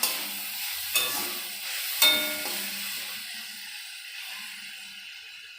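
Potato pieces dropped into a hot pan with turmeric, sizzling loudly with a few sharp stirring scrapes in the first seconds, then a steady frying hiss that slowly settles.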